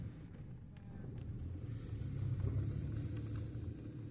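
A 2011 Hyundai i10 pulling away, a low, muffled engine rumble heard from inside the car that builds gently and holds steady, with no talking.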